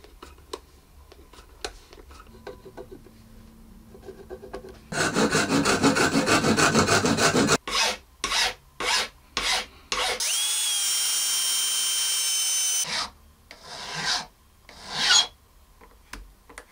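Wooden violin pegs being filed and shaped by hand: a long burst of fast rasping strokes, then several short separate filing passes and a steady whirring tool run, loud and close with no talk.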